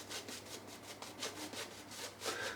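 Badger shaving brush, a 27 mm three-band badger knot, swirled on shaving soap, giving a steady rapid scrubbing and swishing that pulses rhythmically, close and fairly quiet, with no talk.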